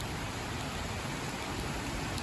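Heavy rain pours steadily outdoors in Kingsport, Tennessee, near a steep hillside road, producing a dense, unbroken broadband hiss with no talking.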